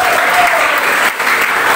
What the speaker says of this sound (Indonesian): Mari kita berikan tepuk tangan kepada Tuhan.